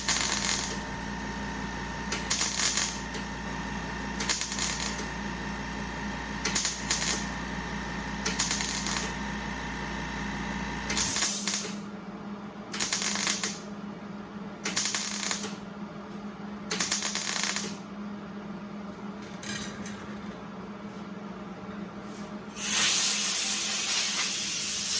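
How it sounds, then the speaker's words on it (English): A welder lays short bursts on the quarter panel of a 1973 Mustang, giving repeated loud crackling, hissing spurts with brief pauses between them and a steady hum in the background. "I'm trying to keep the panel as cool as possible with only welding a little bit at a time."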